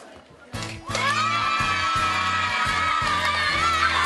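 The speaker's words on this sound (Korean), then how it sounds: "반 친구들이 정말 열렬한 환호를 보내주는데요" Schoolchildren in a classroom cheer and shout loudly for a classmate just elected girls' vice president in a school election, a dense, continuous burst of young voices that starts abruptly and holds steady.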